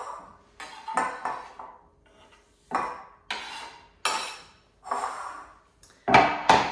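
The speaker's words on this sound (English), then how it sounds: "So that's all of my tomato chopped now, so I'm just going to pop that straight in the bowl" Chopped tomato tipped off a chopping board into a bowl, heard as a series of separate clattering knocks and scrapes of board and utensil against the bowl, close and fairly loud, with pauses between.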